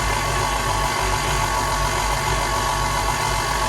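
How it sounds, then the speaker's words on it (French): A stand mixer kneading cinnamon roll dough on its first speed, a loud, steady motor hum with a low rumbling drone that holds constant throughout. "on va laisser ça mélanger à peu près 5 minutes en première vitesse"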